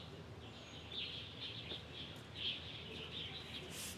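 Birds chirp faintly and sporadically in the distance on a cloudy day in a Chinese city street where workers sweep the pavement, thin tweets over a soft ambient hum.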